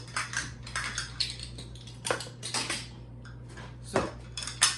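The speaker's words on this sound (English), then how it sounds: "Let's use actual measuring spoons for this." Metal measuring spoons clink and rattle against bowls and utensils while soy sauce and other liquids are measured for a Korean BBQ marinade, with irregular bright clatters close by and a low steady hum beneath.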